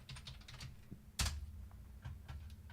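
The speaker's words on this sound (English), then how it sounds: "you can see what I'm typing in" Fingers type on a computer keyboard in quick, light clicks, close and fairly faint, with one louder clack partway through and no talking.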